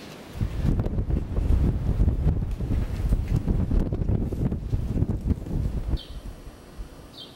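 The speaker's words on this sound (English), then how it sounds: "It's a little windy today." Gusty wind buffeting the microphone in low rumbling bursts for several seconds, then dropping off, leaving a calmer outdoor background.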